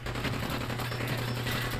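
A minigun fires in Fallout 4, a continuous loud rapid rattle of shots lasting under two seconds with no voices.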